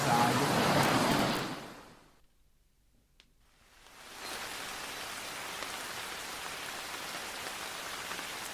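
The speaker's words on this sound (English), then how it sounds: "The pitter-patter of raindrops on the leaves and fall towards the ground." Steady rain falling through woodland in a video game, drops pattering on leaves and ground as a dense, continuous hiss that loudens, drops away almost to silence for a couple of seconds, then returns at a moderate level.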